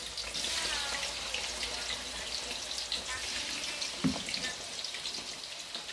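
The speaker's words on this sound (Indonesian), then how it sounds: "Lanjut saya goreng tahu" Tofu frying in hot oil for a spicy balado dish, a dense, steady sizzle and crackle that fills the whole stretch at close range, with a brief clatter partway through.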